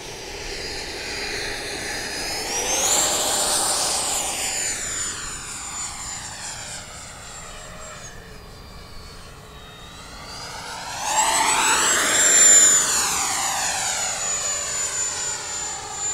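An FMS 80mm electric ducted fan model jet makes two passes overhead, its high whining roar swelling and falling with a strong Doppler sweep each time. It is loud at the peaks and fades between passes, with no voices.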